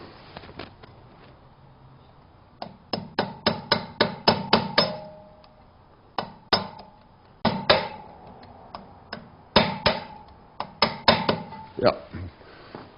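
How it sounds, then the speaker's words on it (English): Sharp metallic hammer blows ring out in quick bursts of several strikes, pausing between volleys, close by with faint talk underneath, as a brake pad is hammered in on a BMW 1200GS motorcycle. "I can go on the other side and hammer it in again."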